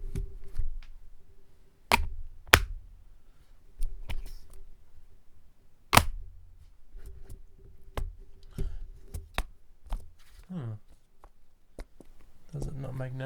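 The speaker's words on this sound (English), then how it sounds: "Let's hear that satisfying click when we attach the keyboard" A Surface Go 2 Type Cover keyboard produces a series of crisp plastic clicks and taps, close and sharp, as it is fitted and attached, with quieter handling rustles between.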